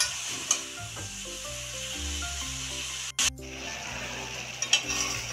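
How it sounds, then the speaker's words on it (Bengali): Mixed winter vegetables frying in a pan while a spatula stirs them constantly, an even sizzle with scraping and a brief clatter of utensils, close by without speech. "অনবরত নেড়ে চেড়ে সবজিটা রান্না করে নিতে হবে, যাতে তলায় লেগে না যায়।"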